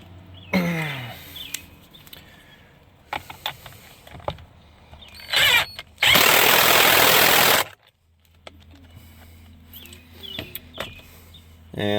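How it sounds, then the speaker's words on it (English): An impact wrench tightens the 21 mm Teflon locking nut on the steering wheel of a 2013 Hyundai Sonata, giving one loud, sustained rattling burst of about a second and a half, set among quieter tool handling and clinks. "I'm just going to torque it with the impact"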